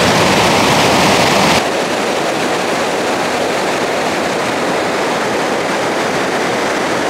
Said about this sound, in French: Je vais continuer à suivre la Sèvre nantaise qui là fait de jolies cascades